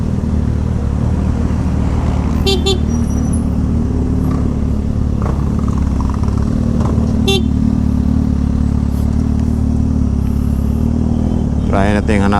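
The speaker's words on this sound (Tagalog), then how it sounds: "grabe traffic dito sa Mayambasak," Heavy road traffic in Mandaue hums steadily with cars and motorcycles close by. Short horn toots cut through at a few points, the last near the end, and there is faint background chatter.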